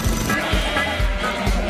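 Sheep bleat in a rhythmic, repeated pattern over a busy musical backing in a Shaun the Sheep promo, the calls coming in regular pulses about every half second.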